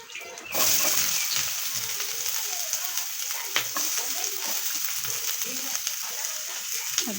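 Onion tossed into a hot pan in a home kitchen bursts into a loud, steady sizzle and keeps frying with a crackling hiss, broken by a few faint clinks.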